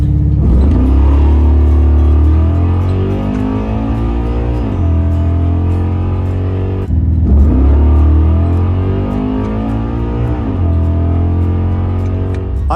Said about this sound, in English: I made 2 or 3 pulls on the Malibu, and the throttle response continued to get better and better.